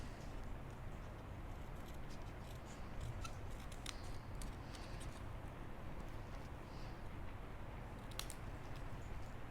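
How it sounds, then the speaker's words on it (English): Scissors snip repeatedly while fussy cutting paper flowers, small crisp clicks scattered irregularly at close range over a soft steady background hiss. "we're just going to do a nice simple straight fussy cut"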